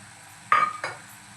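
Finely chopped tomato tipped into a pan for dal palak: a sharp clink of a utensil against the pan, then a softer second tap, brief and close in a quiet kitchen.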